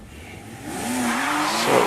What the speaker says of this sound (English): Away goes Phil James, a little bit of wheel spin off the line now as he heads up towards the bridge